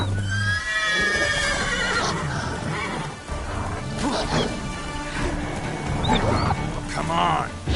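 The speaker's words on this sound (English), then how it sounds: "Whoa there, Roach" A horse whinnies loudly at the start in The Witcher video game, followed by hooves, thumps and a crash-like clatter near a cart, with a voice speaking amid the game sounds.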